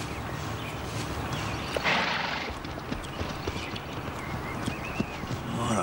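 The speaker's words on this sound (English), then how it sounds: "What a beautiful horse." A horse's hooves clip-clop in a steady, irregular patter at moderate distance, mixed with a broad rushing outdoor background and a brief louder gust.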